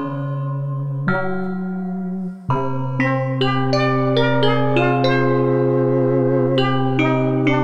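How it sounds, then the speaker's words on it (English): Synthesized bell tones made with granular synthesis ring out in a sequence of struck notes over a sustained pad, each note trailing off in a reverberant wash. "A little bit of reverb on the bells."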